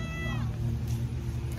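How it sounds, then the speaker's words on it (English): A short cat meow rises briefly over a steady low rumble of background noise, heard once near the start. "the outside cat's meowing at me"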